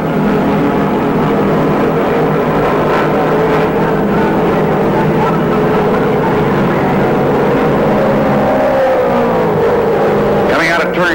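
Late-1960s NASCAR Grand Touring race cars, a Camaro among them, roar at full throttle down a back straightaway, a loud sustained engine drone with pitch sweeps as cars close up, mixed under continuous commentary.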